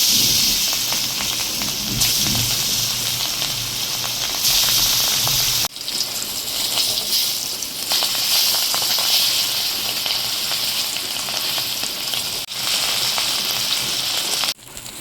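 Fish frying in hot oil in a pan, a loud dense continuous sizzle and crackle close by, steady for the whole stretch with brief dips.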